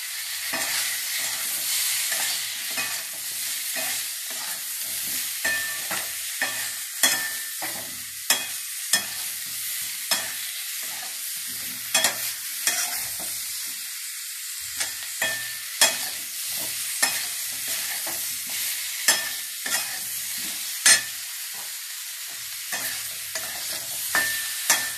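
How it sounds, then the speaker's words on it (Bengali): Coriander and cumin powder fry with ginger paste in a pan as a spatula stirs, steady soft sizzle punctuated by repeated sharp clicks of the utensil against the pan, close with no talk. "একটু নেড়ে চেড়ে নিলাম আন্দাজ মতো। ধনে জিরে গুঁড়ো দিলাম।"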